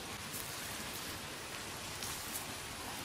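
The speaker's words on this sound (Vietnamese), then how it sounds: "Tình hình là mưa to gió lớn quá mọi người ạ." Heavy rain with strong wind hisses steadily in a dense, even wash of drops striking surfaces, close and continuous with no voices.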